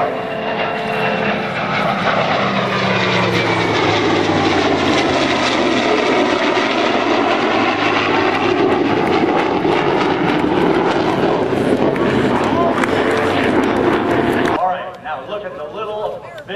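US Air Force F-22 Raptor with heritage flight aircraft passing over the 2008 EAA Oshkosh AirVenture airshow, a loud sustained jet roar swelling and shifting in pitch before cutting off, with a commentator talking over it.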